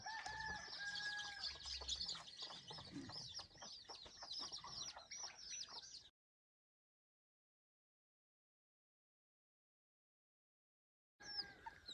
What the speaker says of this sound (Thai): ยังมีเสียงเป็ดเสียงไก่ เสียงหมู